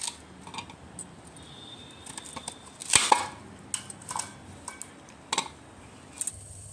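A knife chops elephant foot yam (suran) into large pieces on a board, with faint, sparse knocks and one sharper clack over quiet room noise.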